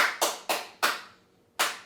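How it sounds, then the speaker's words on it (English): A few people clapping sparsely at a high school choir awards ceremony, five separate sharp claps spaced irregularly in a quiet room. "Only a couple claps for that one, I guess."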